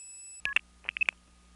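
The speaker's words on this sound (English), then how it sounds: "You'll hear the key pulse of Bronx MFing to Syracuse being interrupted by the Syracuse trunk flashing" Multi-frequency key pulse tones on a long-distance trunk between Bronx and Syracuse, interrupted by the Syracuse trunk flashing: a steady line tone breaks off into a quick burst of short, sharp tone pips and clicks on the telephone line.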